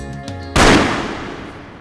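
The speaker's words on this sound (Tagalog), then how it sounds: "Putok ng baril yun." A single loud gunshot bursts out suddenly with a sharp crack, then rings and decays over the following second; faint tonal background sound precedes it.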